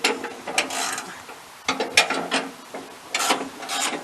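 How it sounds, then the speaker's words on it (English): Sawmill blade tension being loosened during a first-time blade change, giving a series of ratcheting, grinding mechanical clicks in short bursts with brief pauses, close by and without talk. "I'm loosening up the blade so I can get it up."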